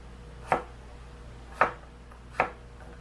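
A knife slices chayote for pickles, giving three evenly spaced, crisp chops against a cutting board, close and clear over a quiet room.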